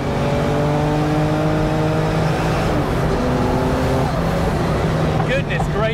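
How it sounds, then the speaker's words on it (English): An old-school turbocharged car engine accelerates hard on a road drive, a loud, close, steadily rising roar with distinct engine tones throughout and a faint whoosh near the end. "This thing is what old school turbocharged raw pure energy sounds like."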